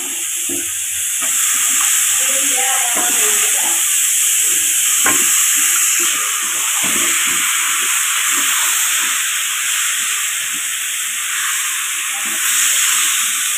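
Spiced plantain (vazhakkai) with turmeric, chili and coriander powder is stirred in a frying pan, giving a steady loud hiss and sizzle with scattered scraping and clinking of the spoon throughout.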